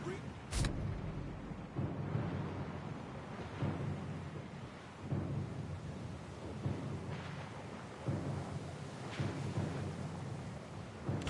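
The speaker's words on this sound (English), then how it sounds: "The storm's pretty loud." Stormy weather in the video game Path of Exile 2, with a steady wash of rain and wind broken by repeated thunder rumbles that roll in every couple of seconds.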